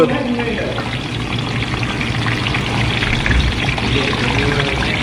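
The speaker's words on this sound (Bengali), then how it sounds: "এই কুড়কুড়ি ভাজা হচ্ছে।" Crispy kurkuri bhaja snack sizzling in hot oil in a kitchen, a steady dense crackle and hiss that runs close and unbroken from start to end.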